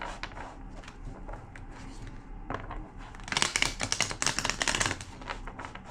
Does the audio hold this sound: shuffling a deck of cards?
yes